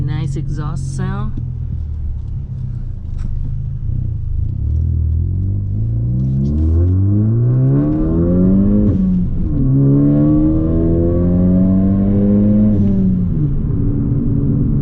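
A 2018 Ford Focus ST hatchback's exhaust rumbles and roars as the engine revs up through the gears, pitch climbing, dropping at a shift, then climbing again, close and loud.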